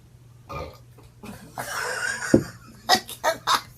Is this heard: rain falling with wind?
no